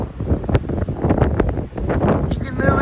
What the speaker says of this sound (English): You can literally hear the trees swooshing.